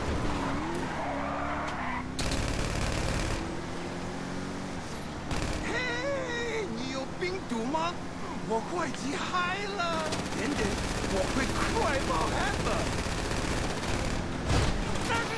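Gunfire in GTA 5, bursts of shots mixed with car engine noise and tyre skids during a chaotic in-game fight, continuing across the clip at moderate level.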